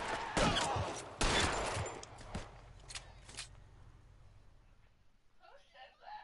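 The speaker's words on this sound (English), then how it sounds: "As there's gunshots flying." Several loud bursts of gunfire crack out in the first two and a half seconds of the L.A. Noire video game, then fade to scattered quieter shots and low rumble, with faint voices toward the end.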